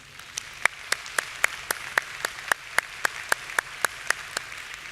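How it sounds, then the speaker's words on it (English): An audience at an American Psychiatric Association convocation applauds new fellows, with sharp, evenly spaced claps ringing out at a brisk, regular pace over a quiet hall. "Please join me in a round of applause to recognize them."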